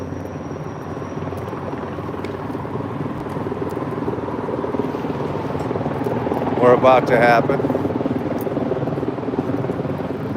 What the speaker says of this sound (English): I hear the choppers in the air.